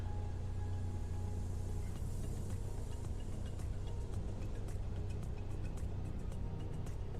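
Light aircraft engine idling near 1,000 RPM on the ground in Microsoft Flight Simulator, a steady low droning rumble held evenly throughout with no voices.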